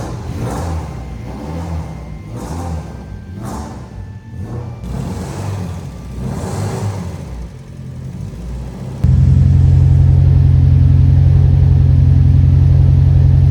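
An old race car engine that had not run in 12 years rumbles and revs unevenly, then catches into a loud, steady idle roar that dominates the second half.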